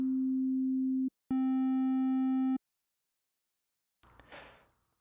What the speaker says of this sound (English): Here's a normal sine wave for comparison.